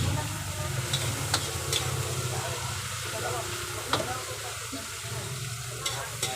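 Tomatoes fry in a pan for sautéed shrimp, giving a steady close sizzle and hiss with occasional stirring clicks and scrapes, while someone talks over the cooking.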